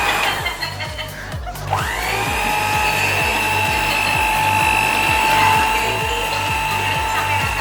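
Electric hand mixer working cookie dough made with brown sugar, vanilla and baking soda, a loud continuous motor whine after a brief start-up, with a rapid rhythmic clatter of beaters in the bowl.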